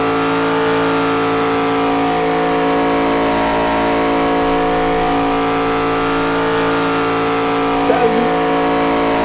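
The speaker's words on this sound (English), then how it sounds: "These guys are definitely on full throttle." A race car engine in the iRacing game, at the Daytona Beach 200 event, roars at a constant, high-pitched full throttle, loud and unbroken, with a harsh buzzing drone.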